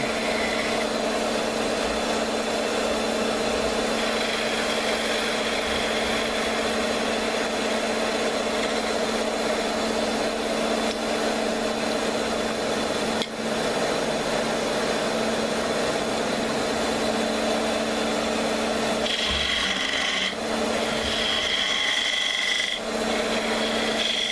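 A wooden throw top turning on a lathe while being trimmed, a steady continuous rasping drone with constant tool-on-wood scraping, loud and unbroken, with brief changes in texture near the end.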